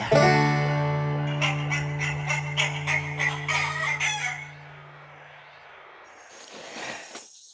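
A rooster crows loudly up close, followed by a run of hens clucking rapidly, then quieter rustling and a few faint clucks.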